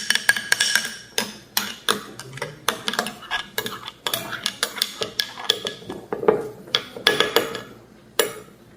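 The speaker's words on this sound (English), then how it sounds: "Just put 1 spoon of chia seeds in your juice like this, and you give it a good stir" A metal spoon stirs chia seeds into a glass of green juice, producing a quick run of bright, irregular clinks and scrapes against the glass, close and clear with no voices.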